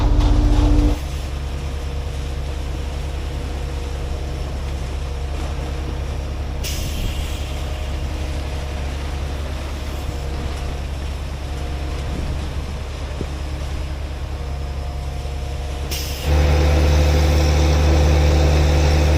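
A truck pulls into a foggy job site and idles with a steady low engine drone, with loud air-brake hisses near the start and again toward the end.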